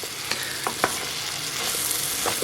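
Onion and garlic fry in a pan on a Trangia camping stove, a steady close sizzle with a few sharp stirring clicks and scrapes, and no voices.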